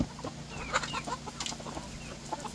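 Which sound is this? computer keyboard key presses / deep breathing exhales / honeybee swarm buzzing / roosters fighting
roosters fighting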